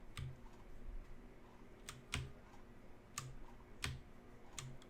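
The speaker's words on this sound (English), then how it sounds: "Let me make sure I typed this in correctly." Computer keyboard typing while setting up a database connection: sparse, irregular clicks and key taps at close range over a quiet background, with short pauses between bursts.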